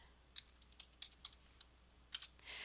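Fingers type a short phrase on a computer keyboard, giving a handful of crisp, light key taps spaced irregularly, close and fairly quiet, with no talking.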